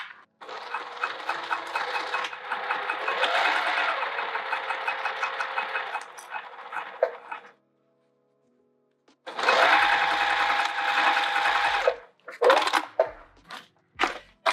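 A sewing machine stitches across the short edge of a bucket tote bag in two long bursts with a pause between them, close and steady, ending in a few short stop-start runs.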